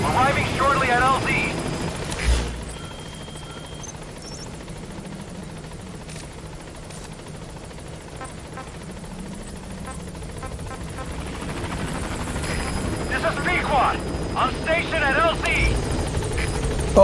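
A support helicopter arriving at a landing zone in Metal Gear Solid 5, its rotor drone sitting low and steady under radio chatter and game sounds, then growing louder toward the end.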